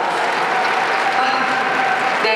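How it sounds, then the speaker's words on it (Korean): An audience at a Busan International Film Festival open talk for the Netflix film Believer 2 breaks into loud, sustained applause, a dense crowd clapping close and continuous. "박수 부탁드리겠습니다"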